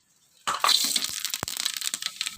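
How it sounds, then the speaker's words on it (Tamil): Cinnamon bark dropped into hot oil and ghee for ghee rice, crackling and sizzling steadily with sharp pops, close and fairly loud, no voices. "இப்போ நல்லா எண்ணெயும் நெய்யும் காஞ்சிருச்சு. இப்போ இதுக்கு தேவையான பட்டை போடுறோம்."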